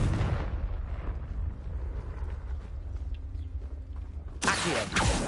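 A Confringo spell explosion in Hogwarts Legacy bursts loudly at the start and fades into rumbling debris, followed by a quieter stretch and then a second sharp blast near the end.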